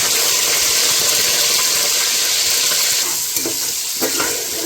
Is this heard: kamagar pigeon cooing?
no